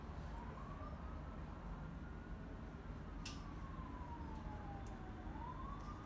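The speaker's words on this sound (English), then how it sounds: "If you hear some ambulance or like a police sounding alarm" A distant siren wails faintly, its pitch sweeping slowly up and down over a steady background rumble of traffic.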